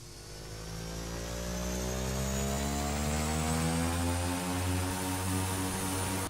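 A Carenado B1900D turboprop engine spools up during start in the X-Plane 11 flight simulator, a rising whine and steady drone building and holding loud, with no talk.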